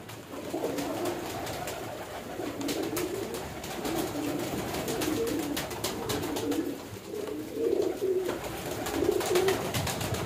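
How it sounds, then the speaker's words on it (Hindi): Pigeons in a breeder's loft flutter down to feed, cooing continuously in overlapping, steady calls at moderate loudness with no talking. "कबूतरों को दाना भी डाल दिया और कबूतर नीचे भी आना शुरू हो गया"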